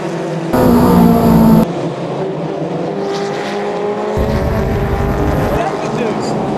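Race cars roar away from the start and head into turn one, loud blended engine noise with bursts of louder revving, heard from trackside as a steady rushing drone.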